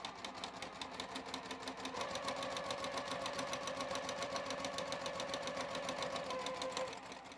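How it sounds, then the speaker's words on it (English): A sewing machine runs a quarter-inch seam with confetti thread on a Christmas gift project, a quiet, even stream of rapid needle ticks that continues steadily for several seconds. "I'm going to start on the very edge and sew right along to the bottom edge"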